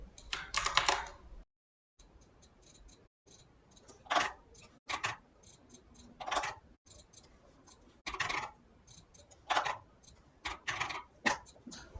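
Quiet keyboard typing in short irregular bursts with brief pauses between them, close and soft, a faint voice now and then in the background.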